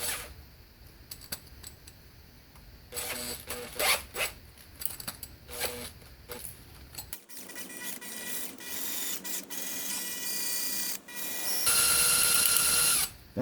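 A drill bit grinding into a stuck bolt under a 2009 Pontiac G5, working at the transmission pan area: bursts of whirring, scraping drilling at close range, then a steadier high-pitched drilling run near the end.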